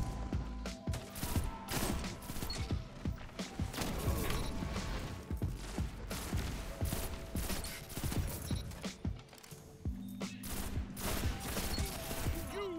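Rapid video game gunfire from a hand cannon and other weapons crackles in dense, overlapping bursts alongside mechanical clicks and impacts during a PvP match, loud and continuous throughout.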